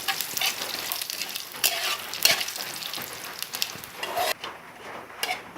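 Bay leaf, dried chilli and five-spice seeds crackle and sizzle in hot oil in a pan for a Bengali raw mango chutney, a steady close frying hiss with brief stirring scrapes, no talk.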